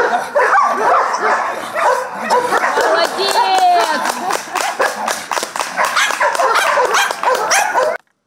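A small Jack Russell Terrier at a youth dog-handling competition barks in rapid, loud yips and bow-wows, close and repeated, with a brief whimper partway through and a narrator talking over it.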